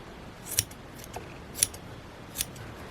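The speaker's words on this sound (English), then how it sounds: "I might give them a quick trim." Scissors snip crocheted yarn loops on a thistle flower, three sharp metallic clicks spaced about a second apart over quiet room background.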